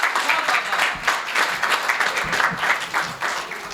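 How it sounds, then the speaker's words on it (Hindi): Dense, steady audience applause at a Hindi poetry gathering (kavi sammelan) following a recital, continuous clapping throughout with slight swells, no talking over it. "बहुत बढ़िया, शानदार काव्य पाठ, जोरदार तालियां बजती रहनी।"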